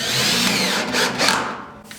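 A power drill drives a 1 inch screw into a Pro-Rib metal panel, giving a short, loud whirring bite that winds up and then stops as the screw seats, all close by.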